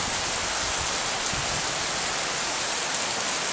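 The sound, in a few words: heavy rainstorm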